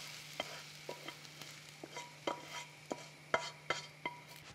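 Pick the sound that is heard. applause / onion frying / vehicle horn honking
onion frying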